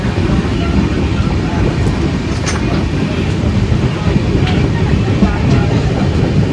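A passenger train runs along the Konkan route in the monsoon, a dense continuous rumble of wheels on track with faint rhythmic clatter and brief higher squeaks, steady and close from inside the carriage.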